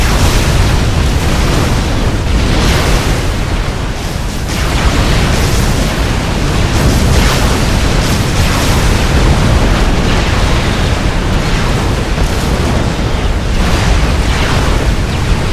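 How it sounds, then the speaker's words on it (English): Mobile missile launchers fire and explode continuously in the video game Supreme Commander Forged Alliance, a loud, unbroken roar of overlapping blasts and rumbling detonations with no pauses. "Guessing those are all mobile missile launchers."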